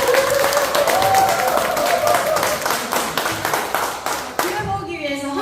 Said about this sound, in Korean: 한 번 더 열정 같은 박수를 보내주세요